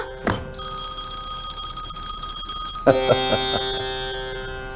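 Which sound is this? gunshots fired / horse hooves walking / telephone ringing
telephone ringing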